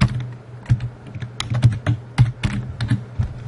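A file name being typed on a computer keyboard, a quick run of distinct key clicks in an uneven rhythm, close and loud over a low steady electrical hum.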